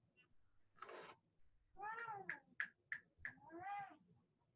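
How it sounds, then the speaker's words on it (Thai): A cat meows several times close up: a drawn-out meow, a longer wavering one, a quick run of short chirping calls, then a final long meow, with quiet gaps between. "Starlight is my cat"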